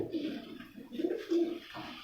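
A Teddy pigeon held in the hand coos softly, with a few low, rolling coos in short phrases, near but faint, and no talking over them.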